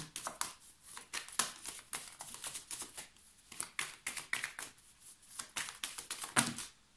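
Tarot cards are shuffled and drawn in a quick run of crisp, papery flicks and soft slaps, close and fairly quiet, with a few sharper snaps toward the end and no talking.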